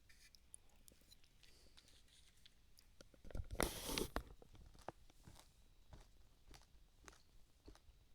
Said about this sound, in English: I don't even know like what I'm chewing